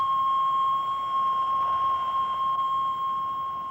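A laboratory rat gives a warning or alarm call: one steady, unbroken high-pitched tone that holds for nearly four seconds over a faint background hiss.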